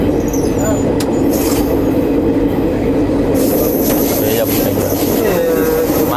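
A train runs along a rail line beside Chilika Lake in Odisha, its loud continuous rumble and rattling wheels filling the scene, with a thin wheel squeal joining partway through as people talk over the noise.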